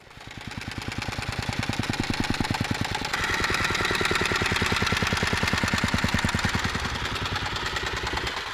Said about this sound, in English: our trusty Mongolian driver has showed up with the compressor, and we start to pack it down